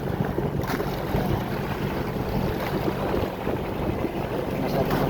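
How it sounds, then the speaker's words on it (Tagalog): Strong wind gusting steadily over open water from a boat, a dense continuous roar with broadband rush and low rumble, loud and close to the microphone with no pauses or talk. "Masyadong malakas-lakas ang hangin."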